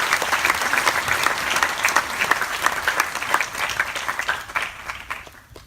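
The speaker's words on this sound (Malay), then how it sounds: "Kita berikan tepukan untuk mereka" An audience at an evening event claps to welcome two guests, Brother Mikhail and Brother Johari, in a lively burst of many hands that stays strong, then thins and fades out near the end.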